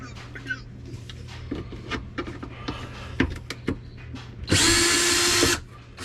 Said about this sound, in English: Thank God for power tools.